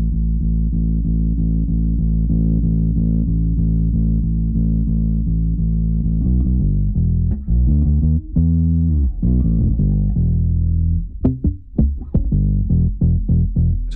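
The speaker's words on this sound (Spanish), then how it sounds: "con una ganancia baja, conseguimos una distorsión muy muy suave, parecida a los amplificadores de válvulas" Electric bass played through an Aguilar Tone Hammer 500 bass head with low gain, giving a soft, warm, valve-like distortion; sustained notes at first, then plucked and shorter notes, loud and alone.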